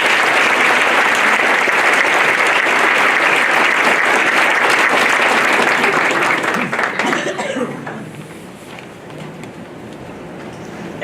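A large awards-ceremony audience claps loudly and densely for the speakers, the applause holding strong for about seven seconds before thinning and fading into room murmur.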